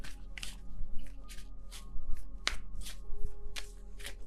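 Tarot cards are shuffled repeatedly in quick bursts of papery riffling and slapping, close up, with a low background hum and no talking.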